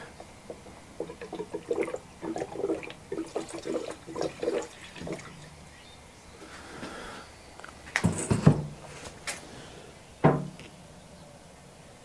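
Mixed two-stroke fuel is poured into a Coleman generator in short gurgling splashes and sloshes, close and fairly quiet, followed by a couple of louder clunks near the end.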